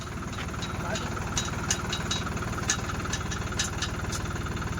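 A new tractor engine idles steadily nearby, a continuous low rhythmic chug running throughout, with voices talking over it.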